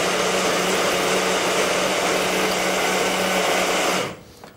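Small food processor mincing pork for rissoles, a loud steady whirring motor blitz running several seconds, then cutting off abruptly into quiet.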